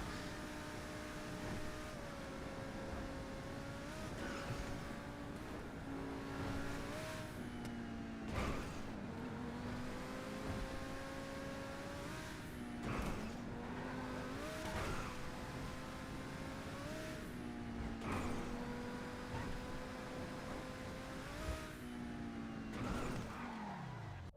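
A car drives in GTA Online with a sustained engine drone whose pitch rises and drops with repeated gear shifts, punctuated by sharp clunks and knocks, moderately loud and continuous with no talking.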